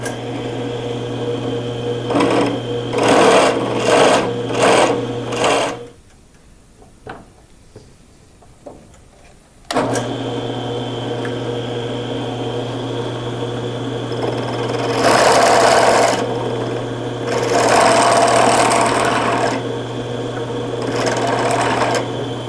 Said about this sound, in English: I'm going to use my drill press to touch up these holes where the screws were.